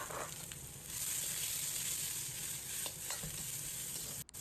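Garlic scapes dry-fry in a hot wok without added oil, producing a steady bright sizzle up close with occasional scraping stirs of the spatula and a brief dip at the very end.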